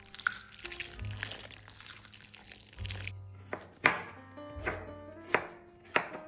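A knife chopping potatoes and onions on a board, with irregular crisp thuds that grow sharper and more evenly spaced toward the end, close and clear over a quiet background.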